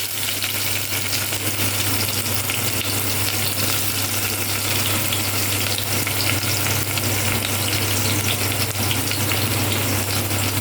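Chopped onions sizzle in hot oil already crackling with mustard seeds, a Tamil-style tempering in progress. The frying is loud and steady, with an even, dense hiss and no voices throughout.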